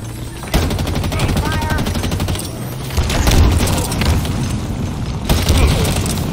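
Sustained rapid gunfire rattles loudly throughout a Halo Infinite multiplayer match, with a heavier grenade burst swelling in the middle and another surge near the end amid constant combat noise.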